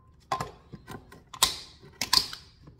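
A knife chops through an onion on a cutting board in a few sharp, crisp clicks and taps spaced irregularly, close and fairly quiet, with no talking.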